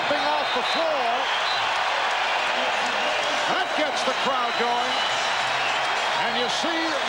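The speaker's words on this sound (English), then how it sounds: "That gets the crowd going." Crowd noise fills a basketball arena during a 1996 Bulls at Knicks NBA game, a steady, dense roar of fans heard throughout with a commentator talking over it.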